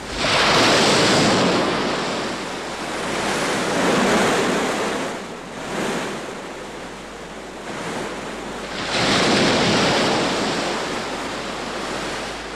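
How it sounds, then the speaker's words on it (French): Ocean waves surge and recede in broad, rushing swells, loud and close, with a continuous roar of surf between crests and no voices. "celui du bruit d'une vague"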